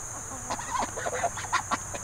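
Newly arrived laying hens cluck and squawk on a homestead as they are let out, a few short bursts close by with no talk.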